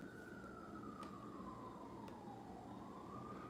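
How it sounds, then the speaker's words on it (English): An ambulance siren passing outside, a steady wail that sweeps slowly downward and then rises again, loud and continuous over a dense background rumble, with no talking. "this ambulance is getting on my effing nerves"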